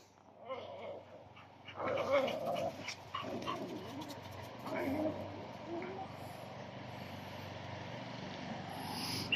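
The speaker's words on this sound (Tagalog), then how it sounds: "nandito na naman yung magugulong aso" Dogs bark and whimper close by, a scrappy mix of yelps and short barks that flares up and then settles into softer whining.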